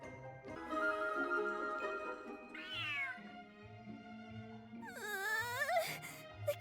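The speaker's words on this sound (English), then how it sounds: "The cat is hissing at me, Miss Rosaria." Cat vocalizing in a Genshin Impact cutscene, with a couple of distinct drawn-out meow-like cries over a steady game music bed; no clear hiss stands out.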